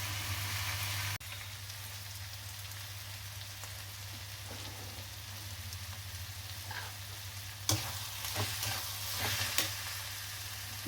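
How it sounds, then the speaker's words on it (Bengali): Banana flower frying with turmeric and cumin powder in a pan, giving a steady soft sizzle throughout, with a brief stir or clatter near the start and a few louder scraping stirs toward the end. "এই দিয়ে মোচাটা ভাজা ভাজা করি"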